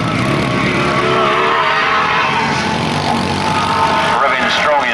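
Grasstrack racing motorcycles at a 1991 Bodiam meeting, engines revving hard in a continuous loud roar, with a commentator's voice running over the noise throughout.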